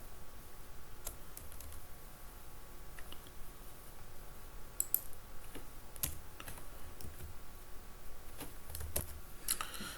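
Code is typed on a computer keyboard at a quiet, close range, with irregular soft key clicks and occasional sharper taps continuing throughout.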